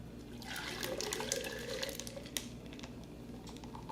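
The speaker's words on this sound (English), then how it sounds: "it should be good enough to add a little bit of water" Water runs and splashes steadily for a few seconds as it is poured into a pineapple raspberry agua fresca, a quiet continuous trickle with small drips.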